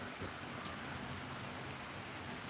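Steady, dense downpour of heavy rain, a constant broadband hiss of drops on surfaces with no voices.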